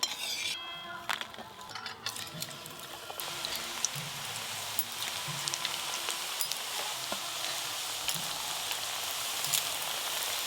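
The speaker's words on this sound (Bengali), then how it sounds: "লাল করে ভাজা হয়ে যাচ্ছে। এরকম করেই সবগুলো ভাজবো।" Semolina snacks fry in a wok of hot oil, a dense continuous sizzle and bubbling with occasional light clinks of a utensil, close and steady for about ten seconds without talking.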